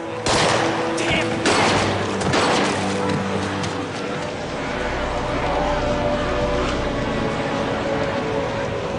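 Dense gunfire in a tense field scene, heavy overlapping bursts with loud sharp shots at the start, then a steady rumbling clatter under faint voices.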